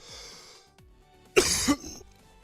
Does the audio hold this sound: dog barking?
no